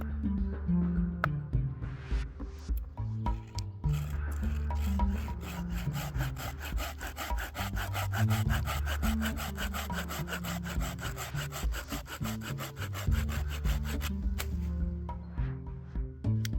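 A hand saw cuts through a wooden branch held steady against the thigh outdoors, with close, rhythmic rasping strokes that speed into a fast, even back-and-forth run and then slow again.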